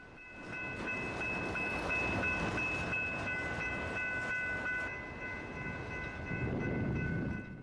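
A train rolls past close by, with a loud sustained rumble and rattle of rail cars and a faint steady tonal whine above.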